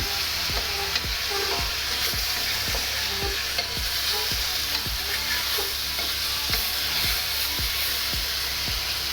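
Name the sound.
tofu and beef searing in a hot pan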